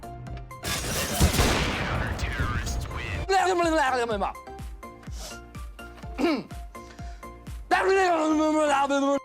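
Gunfire from an AWP sniper rifle in the video game CS GO: a loud, noisy burst of shots early on, followed by spoken voices with short game clicks and impacts underneath.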